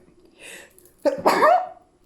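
A single sneeze bursts out close by: a soft intake of breath, then a sharp, loud explosive release that trails off quickly, with no talking.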